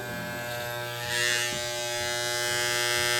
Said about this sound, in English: The noise is because I don't have the housing bolted together.